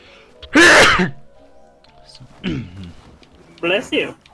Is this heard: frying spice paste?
no